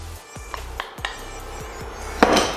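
Okra stew being stirred in a pot, a spoon knocking against the sides in several distinct clanks, then a louder scrape near the end over a low background.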